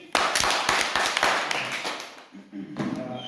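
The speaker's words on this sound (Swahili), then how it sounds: "pigia makofi" A crowd claps in quick uneven bursts during a tally announcement, close and loud at first, then thinning toward the end as a voice speaks over it.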